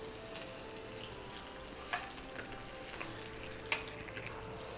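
Hot tempering poured over sago curd rice gives a steady, quiet sizzle with faint crackles and a few soft pops, heard alone without talk.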